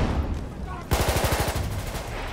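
An automatic weapon in the video game Battlefield 1 fires a rapid burst of about a dozen loud shots that ends in a short echoing tail.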